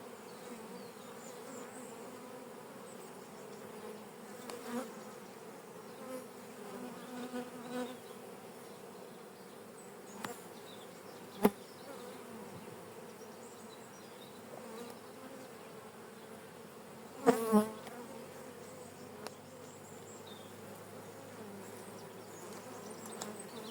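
A calm honey bee colony in an opened hive, smoked lightly on top, gives a continuous low buzzing hum at moderate distance, with occasional faint clicks and knocks of frames.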